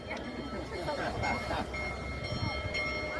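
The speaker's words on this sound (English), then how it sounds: "Once in a lifetime opportunity to see a Union Pacific steam train, or any type of steam train for that matter" Union Pacific steam train passing at Fostoria, Ohio, a loud close rumble of rolling wheels and machinery with crowd chatter around it.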